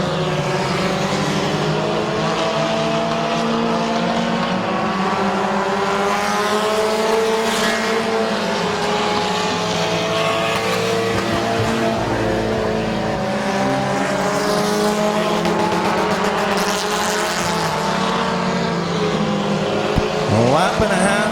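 Race cars roar continuously around the oval at Midvale Speedway, a loud, steady engine drone with rising and falling pitches as cars pass, no clear break in the noise throughout.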